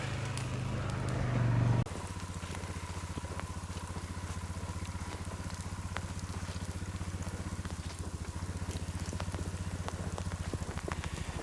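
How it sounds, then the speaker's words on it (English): Rain falls steadily on a surface in the woods at night, a continuous patter with scattered sharper drops; a louder low rumble fades out in the first couple of seconds. "It's raining really good now."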